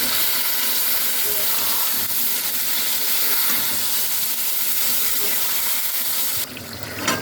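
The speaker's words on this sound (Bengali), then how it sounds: "মশলাটাকে ভালো করে কষিয়ে নেব" Spice masala fries and is stirred in a pan for a Bengali niramish alur dom, a loud, continuous broadband sizzle with a soft watery quality that eases slightly near the end.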